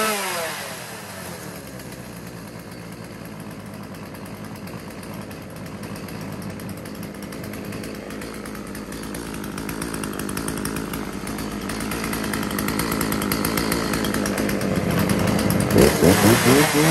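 A Husqvarna chainsaw engine fires up and runs steadily, a close, continuous two-stroke drone that grows slightly louder and rougher toward the end, heard alone without talk.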